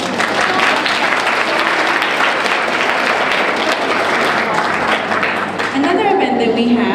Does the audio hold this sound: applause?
yes